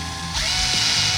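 A power drill bites through a plastic truck bed rail, a short close whine rising as the bit punches through, lasting about a second.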